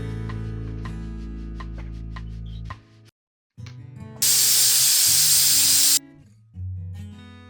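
Pressure cooker whistle on a kitchen stove while jackfruit cooks for sambar: a loud tonal whistle, a brief gap, then a sustained harsh hiss of escaping steam that stops abruptly, all close and without speech.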